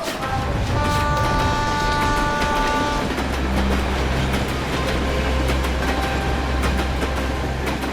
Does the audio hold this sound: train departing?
yes